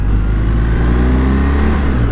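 A BMW R 1250 GS motorcycle being ridden, its engine giving a steady, smooth low drone with constant road and wind rumble throughout.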